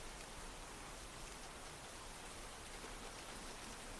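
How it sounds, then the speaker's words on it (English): Steady rain falls across a forest at night, a dense, even hiss with no breaks or distinct drops standing out, holding at a constant moderate level throughout. "the rain finally begins to slow"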